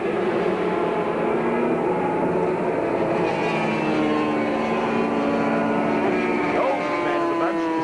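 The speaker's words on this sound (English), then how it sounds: "bikes in the 10th lap of a 12-lap race over 54 kilometres, and David Horton now is 3rd." Racing 250cc motorcycles scream past on the Phillip Island circuit in 1989, late in a 12-lap race, with a steady layered engine drone and rising and falling pitches as bikes pass, while a commentator talks over it.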